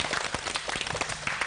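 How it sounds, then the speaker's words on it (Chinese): A studio audience applauds a child named Yuhan, a brief burst of many hands clapping rapidly, moderately loud and steady, without voices. "我们要给雨涵掌声"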